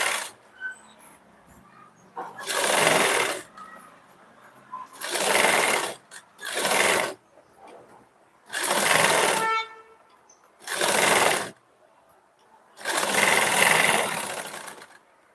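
A sewing machine stitches a blouse sleeve in several loud, close bursts of a few seconds each, separated by short quiet gaps, with no talk.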